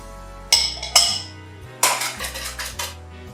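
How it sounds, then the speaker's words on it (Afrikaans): Eggs and milk being whisked in a bowl give a handful of sharp metallic clinks, spaced irregularly and heard up close with no talking. "Dit te klits."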